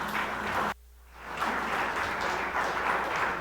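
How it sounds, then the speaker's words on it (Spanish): A church congregation applauds on a Sunday morning, clapping briefly cut off for a moment before resuming as a steady, moderate wash of applause. "Vamos a brindarle un fuerte aplauso al Señor en esta mañana."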